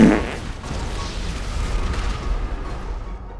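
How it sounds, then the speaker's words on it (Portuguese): A deep rumbling explosion in GTA V Online opens loud, then a low booming roar trails off with scattered bursts beneath it, no voices over it. "É muito tiro, mano."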